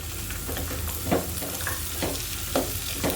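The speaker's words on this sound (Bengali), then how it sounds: "ঘিতে ভেজে নিচ্ছি।" Vermicelli and nuts fry in ghee for shir khurma, giving a steady close sizzle with a spoon stirring through the pan about every half second and no voices.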